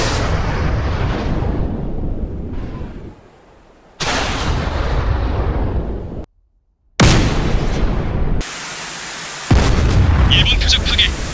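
Missile launches and explosions destroying targets in a simulated North Korean attack, heard as a series of loud, roaring blasts and rumbling booms in long bursts, broken by brief near-silent gaps.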